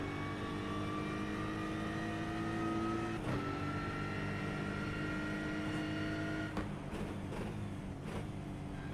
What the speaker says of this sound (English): getting to hear the wonderful roar of the Aston Martin V8 Vantage Evo, and also the backfire there on downshift from the car